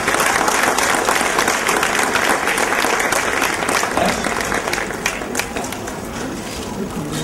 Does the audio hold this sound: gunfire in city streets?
no